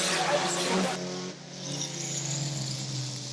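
Stock cars at a race meeting, with only two drivers left on track, engines droning and revving in a steady roar that swells and fades as they pass, under a commentator's voice.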